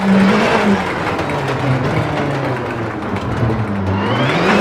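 A rally car engine in WRC 8, FIA World Rally Championship, revving and shifting as it climbs, drops and climbs again, loud and close throughout.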